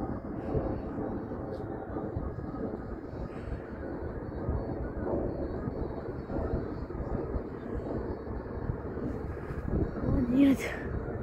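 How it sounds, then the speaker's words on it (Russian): A large grey airplane flying overhead, a faint low roar that lingers and builds slightly toward the end, mixed with wind buffeting on the microphone and a few short nearby noises. "Серый самолет."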